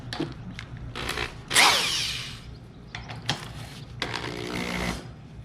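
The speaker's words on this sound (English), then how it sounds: "as I turn the drill in regular forward speed, it makes the reel go in reverse" A power drill whirs in several short bursts, spinning a lawn mower reel in reverse that adds a whirring, clicking rattle, close up with pauses between runs.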